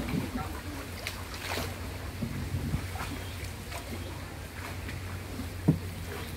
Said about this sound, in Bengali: আমরা সব শুধু 4 জন যাত্রী, 2 জন মাঝি, 6 জন লোক এই বোটের ভেতরে।